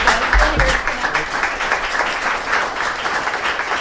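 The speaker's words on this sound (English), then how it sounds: "so I think we should give Rob a round of applause" An audience at a LeadersConnect talk applauds the event host with steady, dense clapping from many people that holds at an even level for nearly four seconds.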